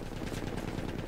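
Light machine gun fire in Battlefield 1 multiplayer, a quick burst of rapid shots at moderate loudness with no talking.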